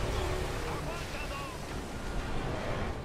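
A boat moving across water in the video game Gears of War 2, a steady rushing wash of waves and wind that runs the whole time, with voices talking over it.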